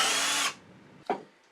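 A power drill bores into a wooden block for a lathe chuck, running loud and steady for about half a second before cutting off, followed by a brief knock.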